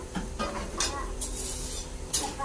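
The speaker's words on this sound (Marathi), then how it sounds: "चांगलं मिक्स करून घ्यायचं." A spoon stirs fried coconut, garlic, ginger, coriander and onion paste into a curry in a pot, giving close scraping strokes and light metal clinks over a faint simmer.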